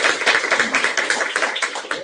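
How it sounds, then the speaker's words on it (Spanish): Audience applause at an academic seminar: a steady patter of many hands clapping close by for about two seconds, with no talking over it. "Eliana, mais uma vez, uma salva de palmas."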